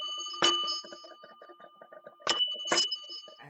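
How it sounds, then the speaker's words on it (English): A hotel lobby service bell struck three times, each a bright ringing ding with a lingering metallic tone, the first alone and the last two close together, in a quiet room. "that basically is one of those hotel lobby bells to call the garçon, garçon, butler."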